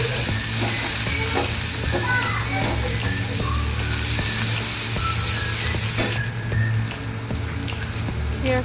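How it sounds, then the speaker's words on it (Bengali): Onions fry in hot oil in a wok with five-spice seeds and a pinch of sugar, giving a steady, close sizzle with occasional stirring scrapes and a brief clatter partway through. "এবার ভালোভাবে পেঁয়াজটাকে ভেজে নেব"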